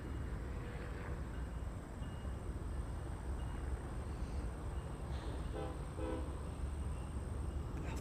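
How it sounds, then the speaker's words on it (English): Trains passing near Chicago O'Hare airport, a low steady rumble of rail cars under broadband noise with a faint horn-like tone near the end, heard from a distance without speech. "I love the sound of the trains."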